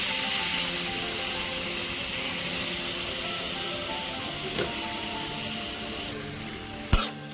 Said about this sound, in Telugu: టమాటాలు నూనెలో వేయించుకుందాం